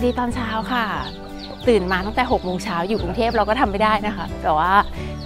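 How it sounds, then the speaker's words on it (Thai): A rooster crows on a misty mountain morning at Pong Phang, its repeated calls partly masked by someone talking close up over them. "มีเสียงไก่ขันประกอบฉากนะคะ"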